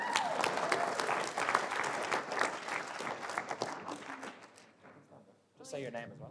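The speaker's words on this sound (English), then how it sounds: "Round of applause for the first question." Audience applause for the first question at a fitness and business Q&A, a steady wash of clapping that fades toward the end before a voice briefly speaks.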